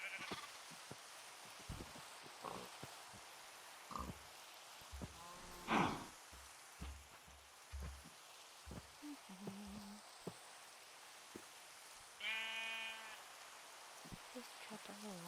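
Sheep bleating in Minecraft, heard as a few short bleats, including a clearer one late on, amid soft footsteps and scattered game sounds.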